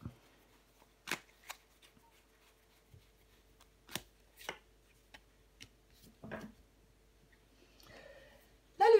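Tarot cards are handled and laid down on a table in sparse, close, quiet taps and slides, a few crisp card snaps separated by pauses, with a faint voice near the end.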